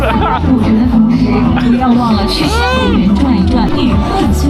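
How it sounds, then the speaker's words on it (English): A huge crowd chattering and milling in Kashgar old town, Xinjiang, a dense close babble of many voices with a few nearer voices standing out throughout. "Trying to find the rest of my group in this huge crowd of people."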